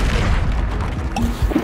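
Expelliarmus spell cast in the Hogwarts Legacy video game, a deep booming magical blast with a heavy low rumble lasting under two seconds, loud and close, a brief sharp crack near its end.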